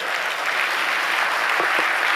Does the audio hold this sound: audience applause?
yes